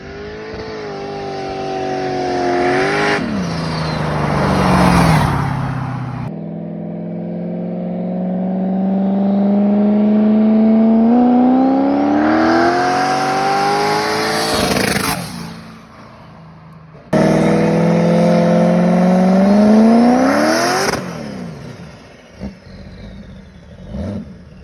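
An all-wheel-drive rat rod with a struggling, flare-shifting transmission accelerates hard in repeated runs, the engine note climbing through long revving sweeps, dropping between shifts, then surging again loud and close.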